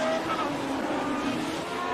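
Lotus 79 Formula 1 car in a sim racing game, its engine droning steadily and loud throughout with a faint tire squeal.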